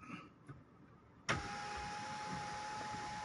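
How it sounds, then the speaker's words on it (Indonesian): A Mazda CX-7's sunroof opens with a sudden click followed by a steady electric motor whine that holds, heard from inside the quiet parked cabin. "Sunroofnya kita coba."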